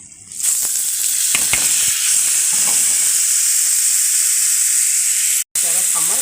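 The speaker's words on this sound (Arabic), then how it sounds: "الشعريه اتحمرت، حطيت الرز." Rice tipped into browned vermicelli frying in a pot for koshari gives a loud, steady sizzle that runs throughout, with a few stirring scrapes and a brief dropout near the end.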